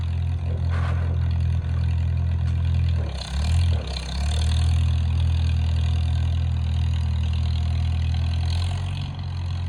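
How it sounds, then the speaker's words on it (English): An old Farmall tractor engine chugs steadily at idle with a deep, loud low rumble, dipping briefly midway as if throttled back before settling into the same continuous drone. "I just love this old tractor."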